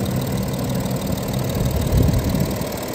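A 2014 Audi A4 Allroad 3.0 TDI quattro diesel ticks over at idle under the bonnet, a steady, close, low rumble with a faint rhythmic clatter and no talking.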